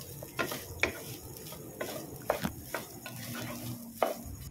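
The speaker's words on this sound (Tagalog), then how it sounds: "Halo-halo ang ating nilulutong sinangag." A utensil stirs sinangag, Filipino garlic fried rice, in a pan, making repeated scraping clacks against the metal at an uneven pace over a soft sizzle, close and moderately quiet.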